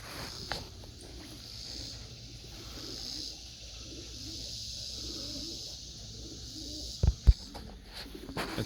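Pigeons coo softly in a loft, a low throaty warble repeating under steady background noise, fairly close, with a couple of sharp knocks near the end and no talk.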